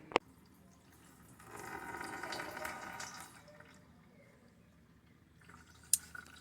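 Antifreeze drains out of a car engine during water pump and tensioner work, a faint, steady trickle that swells for a couple of seconds, framed by sharp clicks at the start and near the end.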